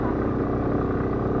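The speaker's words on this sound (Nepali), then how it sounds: "बाइकले चाहिँ फेरि यस्तोमा तान्छ" A motorcycle engine drones steadily under load on a ride through Shivapuri National Park toward Bishnudwar Waterfall, a brief, close, throbbing pulse of sound.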